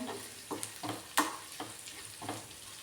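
Chili powder being stirred into onions frying in a pan, with a steady soft sizzle under repeated scraping strokes of a spoon, about five or six strokes at an even rhythm, close and fairly quiet.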